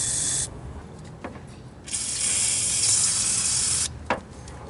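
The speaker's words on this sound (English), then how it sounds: "So we're gonna spray down some WD-40 on there." WD-40 aerosol sprayed onto a car air-conditioning line fitting nut, heard as two loud, steady hissing bursts with short gaps between them and no talking.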